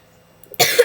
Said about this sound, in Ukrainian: Я кашляю, ти розумієш?